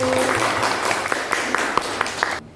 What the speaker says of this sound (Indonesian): Beri tepuk tangan untuk kelompok anggur.